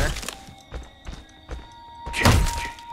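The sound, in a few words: Jason destroying a doll in video game Friday the 13th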